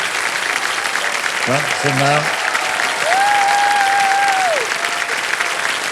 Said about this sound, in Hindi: तालियां बजती रहे उनके लिए